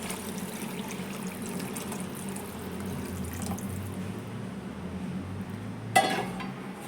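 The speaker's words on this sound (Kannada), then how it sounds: "ಸೊ ಇಲ್ಲಿ ನಾನು 8 ಗ್ಲಾಸ್ ಆಗುವಷ್ಟು ನೀರು ಹಾಕಿಕೊಳ್ತಾ ಇದ್ದೇನೆ." Water poured from a tap or vessel into a pot of rice for mint rice, a steady rushing stream running throughout with a brief clatter of a utensil near the end.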